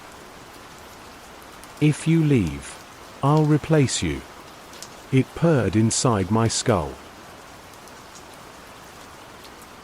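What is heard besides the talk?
heavy rain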